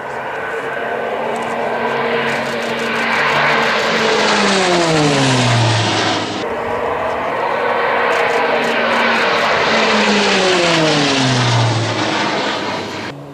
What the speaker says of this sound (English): Now the two aircrafts Pilatus are approaching for the show of force.